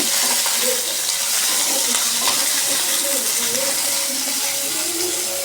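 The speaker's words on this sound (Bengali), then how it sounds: "দেখো করলাটা ভালো করে আমি উচ্ছেটা ভেজে নেব" Bitter gourd sizzles in hot oil in a pan, a steady, close crackling hiss that holds evenly from start to finish with no one talking.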